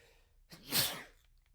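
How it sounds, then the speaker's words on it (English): A single quiet sneeze comes from a person at a microphone: a short indrawn breath, then a breathy burst that fades quickly against near silence. "and I'm gonna sneeze now."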